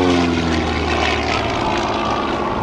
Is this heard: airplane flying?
yes